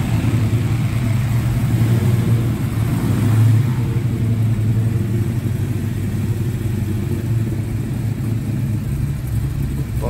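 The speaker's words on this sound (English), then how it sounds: "It gives a bit of a feel for the car with it running and moving around a bit." A Ford Cobra Venom #66 race car engine runs loud and close, a steady dense rumble with slight swells in intensity and no talking over it.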